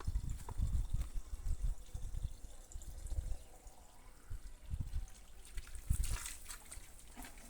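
Water trickles and splashes into bottles being filled in a yard from a weak summer supply, a close, continuous liquid gurgle with small bursts and drips, no talking.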